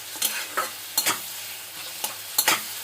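Onion and mango with salt and turmeric are stirred in a frying pan for a sour-spicy rohu fish dish, a spatula scraping in several sharp strokes over a steady low sizzle, close and without talk.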